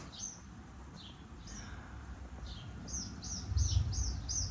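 Small birds chirping in a backyard, with bright repeated tweets coming in bursts, building toward a quick run of calls near the end over steady outdoor background noise.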